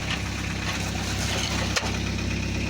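A motorhome engine idles with a steady rumbling, hissing exhaust leak blowing close by. One brief knock or tap comes about two thirds of the way through.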